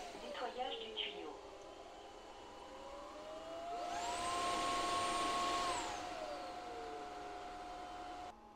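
Roborock Flexi Lite vacuum cleaning its own hose, a steady whirring hum that swells into a loud rising suction roar mid-way, then settles back to a lower drone, with a brief voice at the start.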